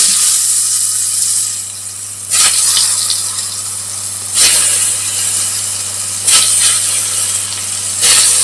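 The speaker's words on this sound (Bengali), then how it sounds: "তেল গরম হয়ে গেছে, বেগুনগুলো দিয়ে দিই।" Eggplant slices fry in hot oil in a home kitchen, giving a loud, steady sizzle that swells in strong bursts roughly every two seconds, with a low constant hum beneath and no talking.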